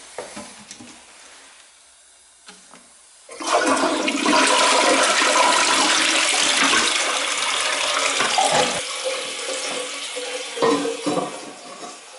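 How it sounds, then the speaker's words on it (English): After a quiet start, a toilet in a house reopened after winterization flushes antifreeze out of the plumbing with a sudden loud rush of water that holds strong for several seconds, then eases into a softer refilling hiss. "Flush all the antifreeze out of the system."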